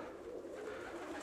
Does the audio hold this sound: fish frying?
no